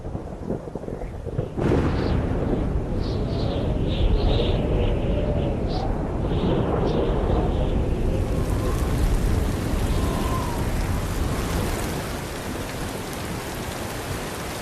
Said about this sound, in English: In the dry season, storms can roll in quickly, but they don't last long.